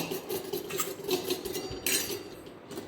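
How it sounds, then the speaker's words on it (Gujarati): Food being served onto a steel plate at home, dal, rice, vegetables and rotis, with metal dishes and cutlery clinking lightly in a close, irregular patter over a faint background hum. "તો હું કાઢી લઉં થાળીમાં જમવાનું"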